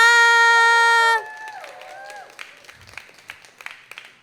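Audience at a Boston poetry reading bursts into applause and cheers for the poets, a dense burst of clapping that quickly thins to scattered claps and a few whoops.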